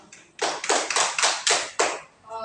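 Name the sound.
class applause for group 2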